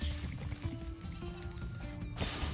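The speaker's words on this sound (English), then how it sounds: "Sheep." A sheep from the Spyro Reignited Trilogy video game bleats once in a wavering cry over soft game background sound, with a sharp burst of noise near the end.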